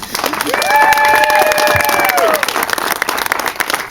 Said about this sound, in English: please give yourselves an incredible round of applause, please